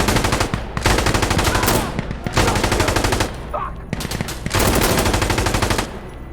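Rapid automatic gunfire from the tactical shooter Insurgency: Sandstorm, loud and close, fired in several sustained bursts with brief gaps between them.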